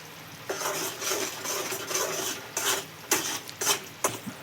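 Jaggery syrup with cardamom stirred in a pan over medium heat for peanut chikki, a spoon scraping the base in repeated uneven strokes with soft sizzling between, close and fairly quiet.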